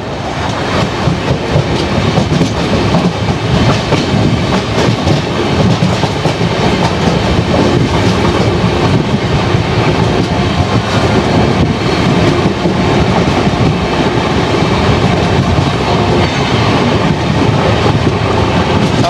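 Rajdhani Express running on the line toward Kota, heard from on board: a loud, steady rumble of wheels on rails with a faint clickety-clack, continuous throughout with no talking.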